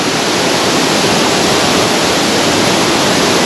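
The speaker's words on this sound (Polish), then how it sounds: "kilometrów dalej znajdziecie drugi wodospad, nieco mniejszy" Loud, close waterfall in Bosnia roaring as a dense, unbroken wash of falling water that stays steady throughout, with no voices.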